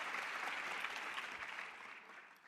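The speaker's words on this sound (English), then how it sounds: "Can we have the biggest round of applause, everyone, for Philippe Martin?" Applause from an audience greets a guest speaker taking the stage at an awards event, a dense, even wash of clapping that stays steady and fades slightly at the end, with no voices over it.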